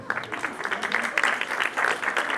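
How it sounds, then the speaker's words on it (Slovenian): A crowd at a national youth awards ceremony breaks into brief, dense clapping that swells and stays lively for a couple of seconds. "En spontan aplavz, prosim."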